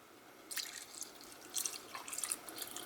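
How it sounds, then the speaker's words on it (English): Water poured into a cooking pot for vegan jollof rice, heard as a few short splashing, dripping bursts close by, with no talk over it. "So now I'm going to add my water."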